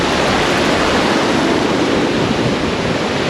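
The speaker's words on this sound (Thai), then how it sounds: "เขาเรียกว่า Eagle Fall นะครับ ก็เป็น น้ำจากภูเขาเนี่ยไหลลงมารวมกัน แล้วก็ลงไปสู่ทะเลสาบ" Eagle Falls at Lake Tahoe, mountain water rushing down toward the lake, heard up close as a loud, steady roar of falling water without pause.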